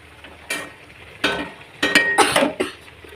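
Vegetables being stirred in a pan with turmeric, chilli powder, cumin and coriander paste for a prawn mixed-vegetable chorchori, with a series of close scraping and clinking strokes in quick bursts.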